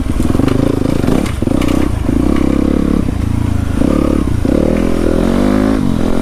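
A dirt bike engine roars loud and close on a night trail ride, revving up and down continuously with a rough, clattering exhaust note.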